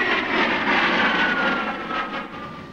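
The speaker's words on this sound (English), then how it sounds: "Electronically, the A6E is a new airplane with the latest radar, inertial navigation, and computer system" A Grumman A-6E Intruder attack jet's engines roar steadily, a loud continuous whine and rush that eases slightly toward the end, with no voices.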